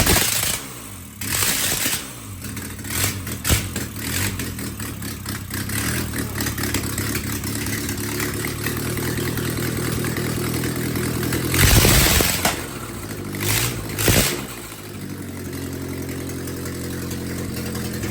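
A car engine cranks and tries to start after fuel pump work, churning steadily and close for most of the time with a louder surge near the end, then dropping back.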